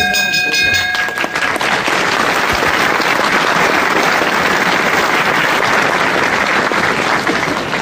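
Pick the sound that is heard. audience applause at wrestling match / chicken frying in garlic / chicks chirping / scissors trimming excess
audience applause at wrestling match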